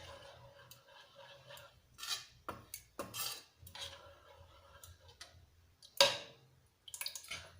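A spoon stirs semolina vada batter in a bowl, giving irregular soft clinks and scraping bursts with pauses between, close and quiet, one sharper tap standing out.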